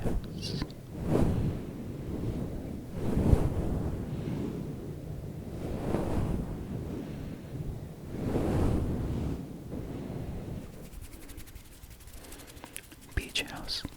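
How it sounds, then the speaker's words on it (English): Ocean waves wash in slow repeating surges near a beach house, each swell rising and fading in soft broadband rushes with a faint breathy hiss in between. "These are the sounds of the waves near the beach house."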